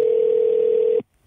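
Telephone dial tone heard through an aircraft comm/audio panel while calling airport weather, a single steady electronic tone that holds for about a second and then stops abruptly.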